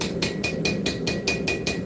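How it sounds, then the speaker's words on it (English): A hammer strikes repeatedly along the spine of a forged blade in a smithing shop, about eight evenly spaced ringing metallic blows over a steady forge roar. "If I run my hammer down the spine of this,"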